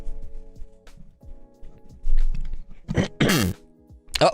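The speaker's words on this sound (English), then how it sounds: "I coughed" A person coughs and clears their throat, a couple of harsh bursts near the end, close and fairly loud, over quiet background music.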